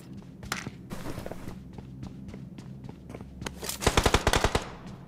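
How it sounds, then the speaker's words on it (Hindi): Gunfire erupts in a battle royale shooter game, with scattered shots and footsteps early on, then a loud, rapid burst of closely spaced automatic fire near the end. "पीछे से फायर हो गया भाई स्टार्ट"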